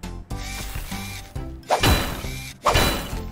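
Two sharp, hard hammer strikes on a frozen toy vehicle ring out near the end, each a loud metallic whack over a soft musical background.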